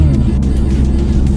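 A Mercedes-AMG A45 S Edition 1 with a turbocharged four-cylinder engine, heard as a loud, steady low growl from inside the car, droning evenly for a brief moment.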